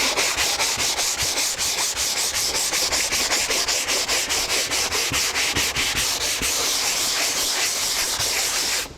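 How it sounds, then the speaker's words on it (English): Sandpaper rubs back and forth by hand across bendable plywood, making a loud, close, rhythmic scratching of quick, evenly spaced strokes that continues without pause until it stops abruptly at the end. "if you take a little bit of sandpaper"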